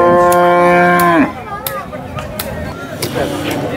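A cow at the Sangola cattle market in Maharashtra lets out one long, loud, close moo that ends abruptly, followed by people talking amid the market's background bustle.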